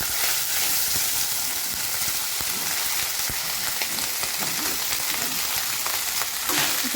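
Rice with cumin seeds and coriander leaves fries in a pan for jeera rice, giving a steady, close hiss and sizzle with small crackles and occasional stirring scrapes throughout.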